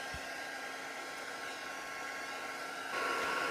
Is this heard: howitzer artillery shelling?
no